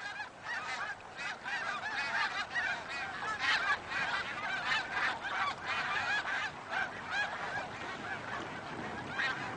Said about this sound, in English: the snow geese begin to sense the imminence of winter and start to head southwards again